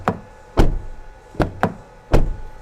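Car doors on a 2024 Land Rover Discovery Sport close with five sharp, solid thuds at irregular intervals, each one close, loud and distinct over a quiet background, with no talking.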